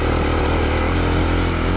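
Kawasaki KLX250 dual-sport motorcycle climbing a rocky trail, its single-cylinder engine droning loud and close at steady throttle throughout the short stretch.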